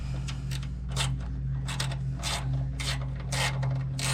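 A wrench works a bolt under an RV furnace, making a series of faint, irregular ratcheting clicks and scrapes over a low steady hum.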